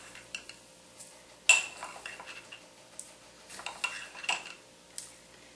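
Small metal clinks and taps of a spoon scooping pickling spice into a stainless steel mesh ball, quiet and intermittent, with one sharper clack near the start and scattered light ticks after.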